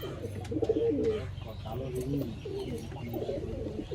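Pigeons kept for sale cooing nearby, soft repeated throaty coos in a continuous low murmur, with faint background voices.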